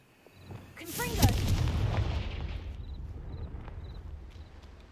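A Confringo fire spell in the Hogwarts Legacy video game goes off as a single deep blast that swells and rumbles away over a few seconds, fairly faint, with a brief voice just before it.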